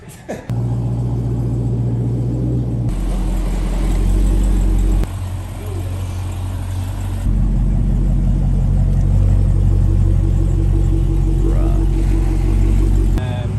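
A Dodge Hellcat's engine rumbles loud and close, swelling in stepped revs and surges as the car spins a donut, steady and powerful throughout.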